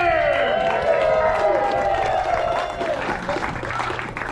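Crowd applause and cheering from spectators after a staged Old West gunfight show in Tombstone, Arizona, with a steady, dense wash of clapping and voices that holds throughout and eases slightly toward the end.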